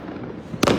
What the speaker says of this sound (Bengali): প্রত্যেক ভবনের আশপাশ থেকেই কিন্তু আতশবাজিগুলো ফুটছে হরহামেশাই।